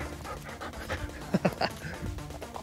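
A dog pants in quick, breathy bursts close by, with a few brief whimpering sounds mixed in.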